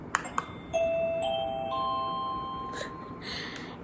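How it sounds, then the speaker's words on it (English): A classroom doorbell chimes once in a quiet room, a few sustained bell-like tones ringing out after two soft taps, then fading with light background noise. "but this is my doorbell."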